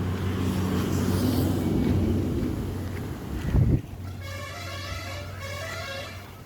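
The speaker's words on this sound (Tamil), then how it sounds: "இப்போ கொஞ்சம் சுடுகாத்து அடிக்குதுங்க" Hot wind blowing outdoors where foraged fruit and greens are laid out to dry in the sun, a steady broad rushing roar buffeting the microphone. It ends in a brief gust, then gives way to a fainter hum.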